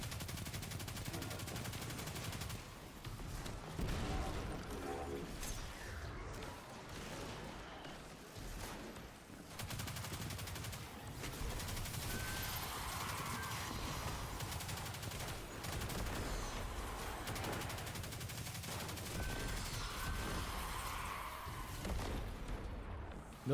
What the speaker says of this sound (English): So you can just literally fire this thing forever and it never has to reload.